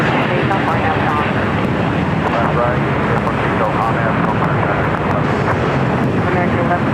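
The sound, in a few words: Boeing Dreamliner airliner taxiing at LAX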